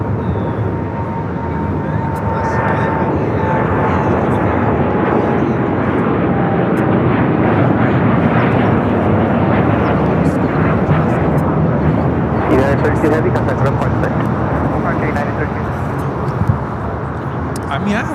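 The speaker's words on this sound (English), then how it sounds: "United Dreamliner rolling down at 25 right." A United Dreamliner airliner rolls down runway 25 right at LAX, its engines a loud sustained roar building across the whole stretch while people talk over it.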